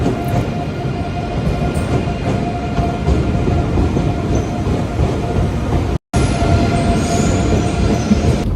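Loud, continuous rumble and rattle of a moving train from inside a carriage, steady throughout with one brief dropout near the end.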